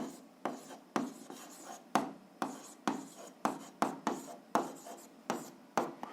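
A pen writes out the answer to a seventh-grade algebra exercise close by, making brisk scratchy strokes in quick repeated bursts with short gaps between them. No voices are heard.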